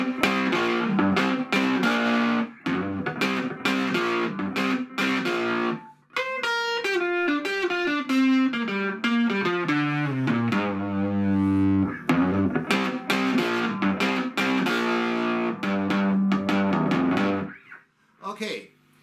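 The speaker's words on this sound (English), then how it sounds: "Now let's check it on my Fender Telecaster Custom II from 1974." A 1974 Fender Telecaster Custom II on its neck pickup plays chords and single-note runs through a 1957 Fender Champ amp turned all the way up, giving a loud, distorted, gritty tone with a brief fade at the end.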